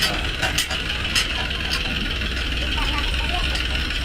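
A tractor engine runs at a steady idle with a low, continuous rumble while people talk loudly nearby over it.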